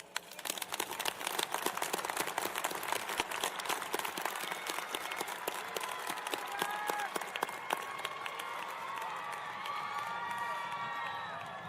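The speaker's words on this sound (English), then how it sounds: "let's give them a huge round of applause" Audience at the U.S. Air Force Academy graduation ceremony for the Class of 2024 gives a big round of applause, dense clapping swelling to loud sustained cheering and whoops, then easing slightly while still going strong.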